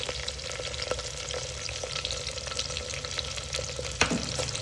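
Onions sizzle and fry steadily in a pan, with a dense, even crackle at moderate volume and an occasional scrape of stirring, and nobody speaking.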